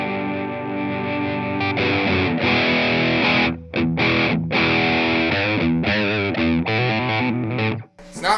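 An electric guitar played through a Fender overdrive pedal gives a gutsy, moderately driven amp tone. Sustained chords and riffs ring out with brief pauses between phrases.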